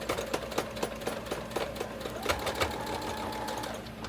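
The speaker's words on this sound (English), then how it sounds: "having to sew through the embossing powder, which is like plastic" A sewing machine stitches through a craft journal page coated in plastic-like embossing powder, running steadily with a rapid, even needle clatter throughout, close up with no talking.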